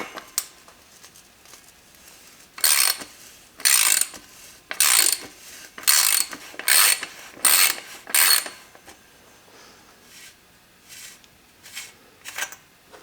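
Ratchet wrench clicking as it loosens the drive-side bottom bracket on a Specialized S-Works bicycle, in eight or so close bursts of rapid ratcheting, then fainter scattered clicks.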